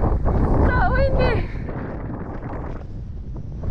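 Strong wind at sea buffets the microphone in a loud, continuous roar, with a brief voice heard over it early on.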